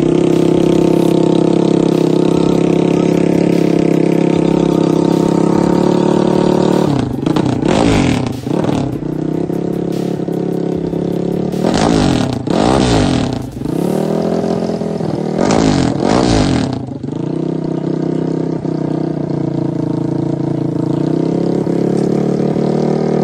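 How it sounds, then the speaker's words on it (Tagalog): A race motorcycle engine built for open chain racing idles steadily with a high buzzing tone, then is revved hard in several sharp bursts that rise and fall before settling back to idle. "tinitesting talaga ito ni Boss Kirby para makuha niya yung tamang timpla at tamang timing, tamang feel ng kanyang bagong motor"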